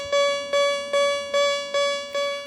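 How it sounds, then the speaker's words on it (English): A loud, piercing phone emergency alert tone pulses in six evenly spaced bursts, each swelling and fading like a siren, with no voices. "and distinctive siren-like sound to your mobile phone"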